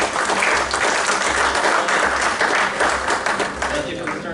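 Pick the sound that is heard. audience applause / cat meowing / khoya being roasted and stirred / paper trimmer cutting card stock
audience applause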